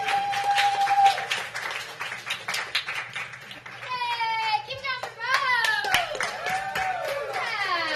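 Clapping and cheers from a comedy club crowd as a performer leaves the stage, with excited voices and children's whoops rising over the applause and someone talking through it.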